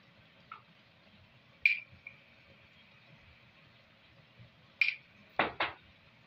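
Spoon scraping and clinking against a pan while paprika and salt are stirred into minced meat, a few sharp metallic knocks spaced out over quiet, with a faint ringing tone after two of them.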